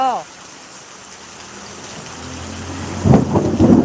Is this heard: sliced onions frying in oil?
no